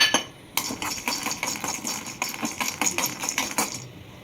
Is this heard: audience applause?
no